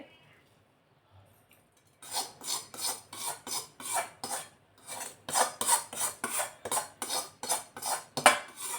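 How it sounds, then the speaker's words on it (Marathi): Spiced poha chivda being tossed in a pan with a utensil, a run of rhythmic dry scraping and rustling strokes after a quiet start, close and moderately loud with no talking. "हे थोडंसं असं मी खालीवर करून घेते आणि त्यावरती ही फोडणी टाकते"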